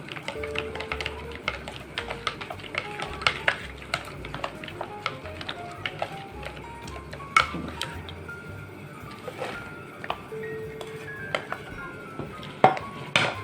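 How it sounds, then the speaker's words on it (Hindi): A spatula mixes sugar into cream in a bowl with irregular light taps and scrapes against the sides, close and fairly quiet, with a low hum behind it. "1 टेबल स्पून शुगर, और इसको अच्छी तरह मिक्स कर लेना है स्पैचुला से।"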